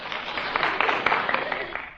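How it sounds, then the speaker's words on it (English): Studio audience applause on an old radio comedy show, a muffled, narrow-sounding ripple of clapping from a crowd, moderately loud and tapering off at the end. "slightly radical applause there"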